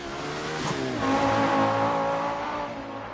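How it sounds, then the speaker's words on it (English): Audi Quattro rally car engine in the DiRT Rally racing game, a loud steady engine drone with rising and falling revs and no talk. "I love the way the Quattro sounds in this"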